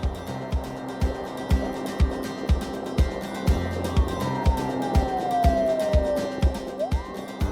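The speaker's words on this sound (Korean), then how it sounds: "여러 대의 사이렌 소리를 듣게 되었고요" Several fire engine sirens wail with a falling tone over a rhythmic, thumping engine and road noise, heard from a police motorcycle escorting them near Ilsan fire station.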